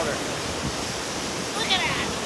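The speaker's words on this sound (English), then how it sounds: "It's just the waterfall so loud it sounds like it's in the car." A loud Hawaiian waterfall beside the road roars as a steady, broad wash of rushing water, constant and close with no breaks.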